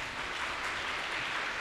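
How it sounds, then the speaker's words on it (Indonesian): A crowd at a religious lecture gathering claps in a dense, steady burst of applause that fills the short moment evenly without letting up. "Tepuk tangannya, monggo."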